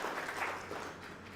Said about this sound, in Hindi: अपने लिए भी जोरदार तालियां बजाकर अपना स्वागत